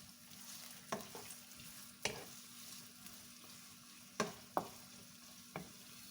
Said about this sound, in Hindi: सबसे पहले प्याज को फ्राई कर लूँगी।